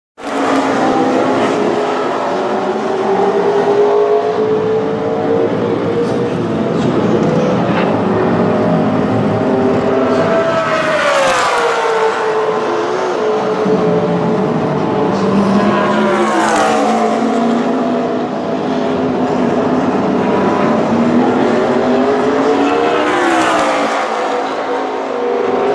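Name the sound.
race trucks doing practice laps at speedway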